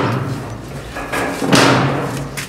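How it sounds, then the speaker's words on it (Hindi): A door being pulled aside during unpacking at home, producing a scraping slide and a sharp thud midway, with low background rumble around it. "दरवाजे को थोड़ा सा उस तरफ कर दो"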